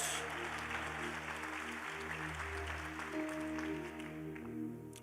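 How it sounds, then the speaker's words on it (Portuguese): A church congregation applauds steadily, a continuous wash of many clapping hands over sustained organ or keyboard tones. "Você pode aplaudir Jesus pela sua palavra, amém?"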